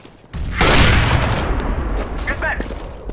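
Grenade explosion with gunfire in the CS:GO video game: a sudden loud blast that decays into a crackling rumble over a few seconds, with a voice briefly audible.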